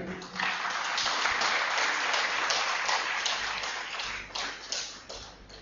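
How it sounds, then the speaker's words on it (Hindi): An audience claps through a talk on indigenous medicine, a dense, fairly distant and moderately quiet wash of applause that swells slightly and then tapers near the end. "आप जोरदार तालियों से उनका स्वागत करें"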